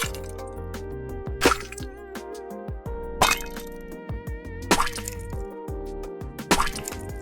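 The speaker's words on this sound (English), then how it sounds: "Now let's generate the sound effects for the splatter." AI-generated splatter effects play one after another: wet squishy drips and plops with sharp liquid bursts, several separate takes with short gaps, close and moderately loud, no talking.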